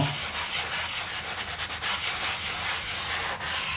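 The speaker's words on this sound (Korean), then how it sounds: "이제 마지막으로 이쪽을 문질러 볼게요. 부드럽게 문질러 주세요." Rust being scrubbed off a tiled surface with a cleaning chemical, heard as a steady, continuous rubbing and scouring close by, without pause and with no talking.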